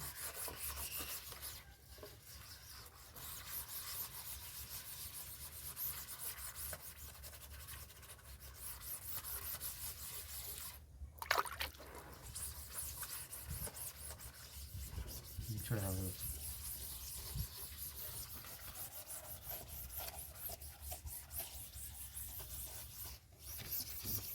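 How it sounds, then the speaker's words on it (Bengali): During bag printing, something is rubbed against the bag, making soft, quiet scratchy strokes that repeat close by over a faint background. "আমি একটু ঘষলাম"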